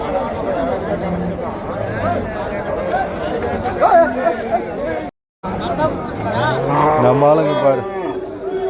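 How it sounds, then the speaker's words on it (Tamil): Bulls low and moo at a cattle market in Vaniyambadi, close by and repeated, under a busy babble of traders' voices and chatter. "காளையா கிடாரியா காளைங்க தான்"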